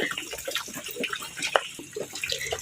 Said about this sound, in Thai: หลังจากที่รดน้ำดินชุ่มแล้วนะคะ